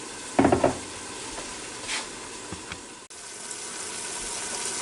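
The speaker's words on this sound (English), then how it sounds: "as soon as we get finished browning this stuff over here, we're going to dump this right in on top of it" Meat browns in a Ninja Foodi Deluxe pot for one-pot spaghetti, a steady close sizzle with a few sharp knocks and stirring scrapes early on.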